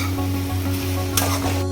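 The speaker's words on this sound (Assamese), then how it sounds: "এনেদৰে অকণমান ভালদৰে মই লৰাই ল'ম।" Boiled soybean chunks stirred with tomato in a hot pan, a steady loud sizzle of frying with a continuous hum underneath and a brief scraping stir near the end.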